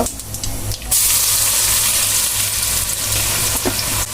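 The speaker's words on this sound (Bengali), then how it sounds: "রসুনগুলো একটু লাল লাল করে ভেজে নিব" Garlic fries in hot oil for satkora pickle, making a loud, close, continuous sizzle with occasional stirring noises and no speech.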